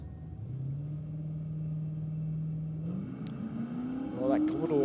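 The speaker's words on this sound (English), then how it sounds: "V8 Commodore back out. Yeah, running the nitrous. Taking on the Toyota Sora." V8 Commodore running nitrous and a Toyota Soarer rumbling at a drag strip, engines droning low then revving up as they launch, fairly distant under a commentator's talk.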